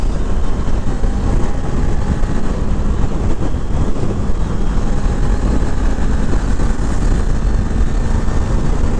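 Small-displacement motorcycle engine running steadily while being ridden, a loud, constant droning hum mixed with heavy wind rush and no clear gear changes or speech.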